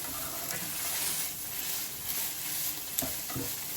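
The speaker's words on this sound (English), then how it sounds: "We're gonna mix this up. Just mix it really good." A seasoned mixture with oregano being stirred in a pan, a continuous soft sizzle with scraping strokes and a couple of sharper clinks near the end, no talking.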